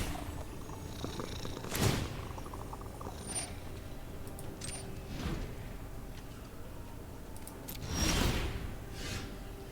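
A pet cat purrs softly and continuously close by, a low steady rumble with a few brief rustling swishes and bumps on top, and no talking.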